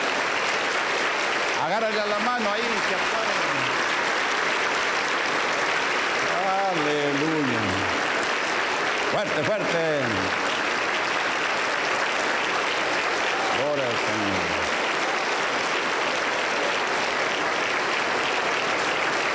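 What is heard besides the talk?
congregation applause in church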